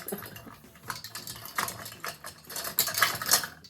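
Metal measuring teaspoons get rummaged for among kitchen utensils in a drawer, making a series of close, bright clinks and jangling rattles that grow busier and louder toward the end, with no voices.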